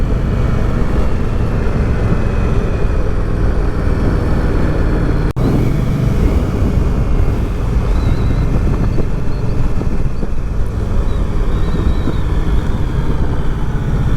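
An Indian Scout Bobber motorcycle cruising on the road, its engine drone and wind rush steady and loud for the whole stretch, with one brief knock partway through and no talking.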